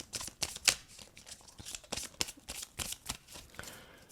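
A deck of oracle cards is shuffled by hand, giving a close run of quick papery riffles and soft slaps with short pauses between strokes.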